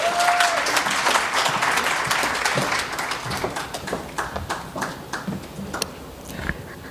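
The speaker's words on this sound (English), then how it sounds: "Let's give her a round of applause." A conference audience at an opening ceremony bursts into loud, close applause that gradually thins into scattered individual claps.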